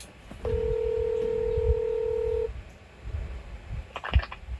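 A telephone number is dialed on a phone: a single long, loud keypad tone holds for about two seconds, then a short burst of quicker beeps follows near the end over faint background noise.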